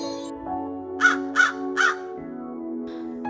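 Cartoon crow giving three quick caws in a row over a steady tonal music bed, clear and close.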